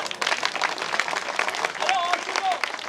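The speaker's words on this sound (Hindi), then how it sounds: "तालियां।" Scattered applause from a street play audience, light uneven clapping with crowd murmur and brief whistle-like tones mixed in.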